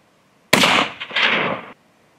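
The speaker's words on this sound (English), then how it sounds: "pulled out his Ruger 22 K-Hornet and took a couple shots" A Ruger 22 K-Hornet rifle fired at rockchucks in rimrock canyon country, a single loud sharp shot followed by a rolling echo that fades after about a second.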